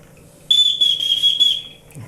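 An old sheriff's whistle, a Porter County, Indiana relic, blown in one steady shrill tone lasting just over a second, close and loud, then cut off.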